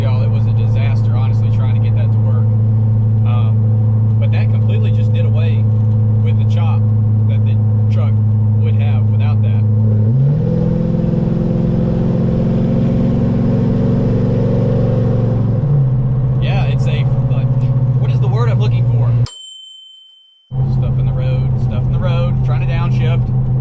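Chevrolet Silverado with an equal-length Corvette-style Spintech exhaust loop idles with a deep, steady rumble, then revs up and holds a higher drone for several seconds before dropping back, followed by a brief cutout; loud and close.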